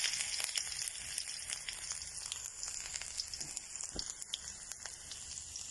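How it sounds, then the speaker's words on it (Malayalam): Crushed ginger frying in hot oil in a pan: a steady, close crackling sizzle with scattered sharp pops, continuous throughout with no voices. "1 ടീസ്പൂണ് ഇഞ്ചി ചതുക്കിയത് ഇട്ട് കൊടുക്കുന്നുണ്ട്."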